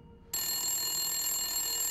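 A telephone in the Midnight Scenes: The Nanny game starts ringing abruptly and keeps up a bright, continuous bell tone, loud and close, with no voices.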